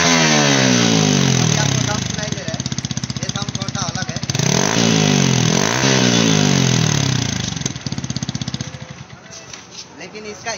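Yamaha MT-15 motorcycle fitted with a modified, welded-on silencer, its engine revving up and down in repeated loud sweeps with a crackling exhaust, while someone talks over it.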